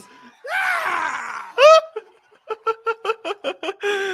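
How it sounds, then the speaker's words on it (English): Howard Dean's scream from a political rally recording: a drawn-out shout, then a loud, shrill rising yell, followed by a rapid run of short, clipped vocal bursts. "that's the scream that doomed Howard Dean"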